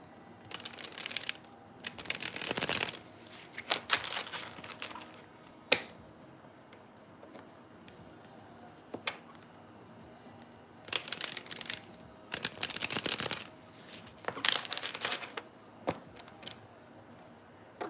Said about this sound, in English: I'm so slow shuffling my cards.